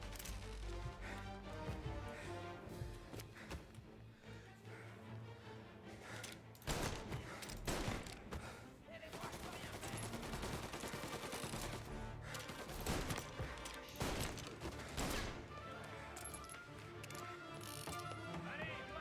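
Gunfire in the video game Mafia comes in bursts and single shots over a busy game soundtrack, fairly quiet overall, with a few brief stretches of clattering action.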